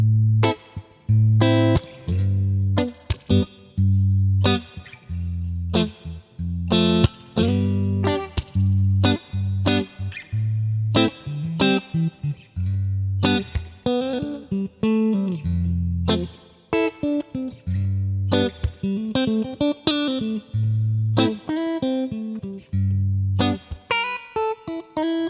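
An electric guitar played through a profiled 1957 Fender Bandmaster amp with a touch of reverb rings out alone in plucked notes and chords. The bass notes repeat and the sustained tones fade between phrases.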